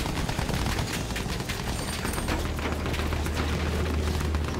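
Rapid machine-gun fire from an attacking airplane in the World War I shooter Battlefield 1, a dense, continuous burst of loud gunfire mixed with rumbling battle noise that never lets up.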